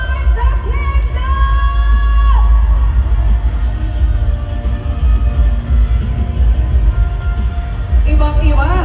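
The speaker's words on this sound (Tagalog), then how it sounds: "Nakakabinging mga hiyawan." Cheering and yelling from a packed Araneta Coliseum Christmas party fill the space, a loud continuous rumble of crowd noise with scattered high whoops at the start and near the end.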